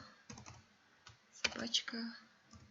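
An email address is typed on a computer keyboard in quick, close clicking bursts of keystrokes, with a voice talking over parts of it.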